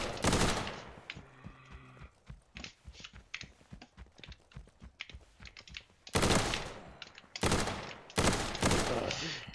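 Light machine gun fire in the Roblox shooter Reign Fall, with rapid bursts of sharp shots, a stuttering run of quick rounds followed by several loud, close volleys near the end.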